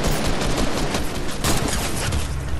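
Rapid Fortnite gunfire, a dense barrage of loud shots crackling continuously over the whole stretch with no clear pauses between them.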